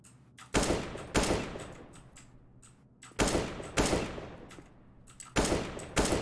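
Gunfire in a Source engine video game during a headshot ace attempt: loud broadband shots in clustered pairs, two near the start, two mid-clip and two at the end, each ringing out with a decaying tail over a low hum.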